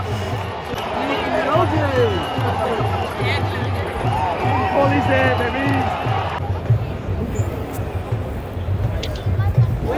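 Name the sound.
cricket stadium crowd cheering wildly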